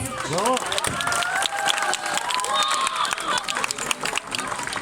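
Guests at a civil wedding ceremony clap and cheer continuously, with overlapping voices and whoops layered over the applause.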